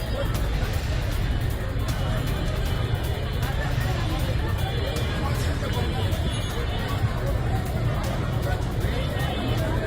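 Hundreds of protesters loot a mall in Bangladesh, their crowd noise a dense, constant roar of overlapping voices and chatter that fills the whole stretch with no pauses.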